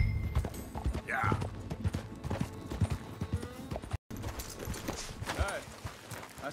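Horse hooves in Red Dead Redemption 2 beat a quick, steady clip-clop on open ground near a dried-up creek, with a whinny or two and voices talking over the riding.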